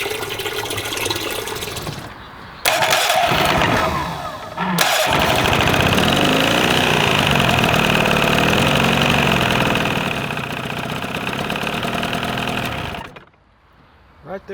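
An Evinrude outboard motor runs steadily at idle for most of the stretch, a loud continuous mechanical drone with a sudden rise near the start before it cuts off toward the end.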